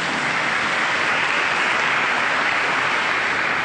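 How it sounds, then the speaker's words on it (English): Audience applause at an Intelligence Squared debate on a climate change tax: dense, steady clapping from a large crowd, loud and continuous for the whole moment. "feel free to applaud if you agree with him"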